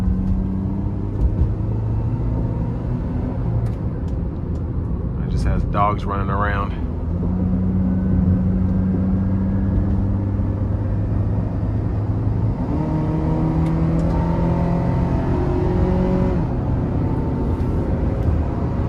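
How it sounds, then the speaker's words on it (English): A 2013 Honda CR-V with a 2.4-litre four-cylinder engine and AWD accelerating onto an interstate, a steady engine drone and road rumble from inside the cabin, with someone talking over it. "Let's give it some throttle here."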